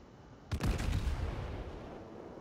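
The battleship Wyoming's main guns fire a salvo in World of Warships: one sudden sharp blast, then a deep rumbling boom that fades slowly, heard at moderate distance.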